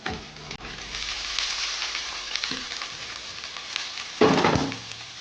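Radish and potato pieces frying in a pan give a steady, close sizzle with occasional scraping stirs, and a louder burst of crackling near the end.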